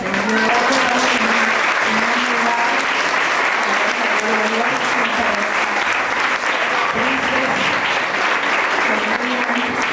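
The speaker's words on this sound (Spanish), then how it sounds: "les pido un fuerte aplauso" A church congregation applauds loudly and steadily at a Christian program, dense clapping filling the whole stretch, with voices and cheers mixed into the crowd.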